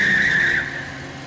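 Tires on a stolen monster truck squeal in a single loud, sustained skid during a sharp turn, fading quickly after about half a second.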